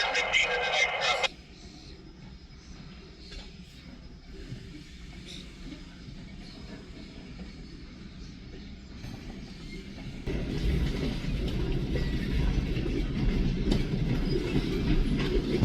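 Freight train cars roll along the rails, a low continuous rumble with soft clickety-clack joints, quieter at first and then growing louder and nearer toward the end, with a brief burst of radio noise at the start.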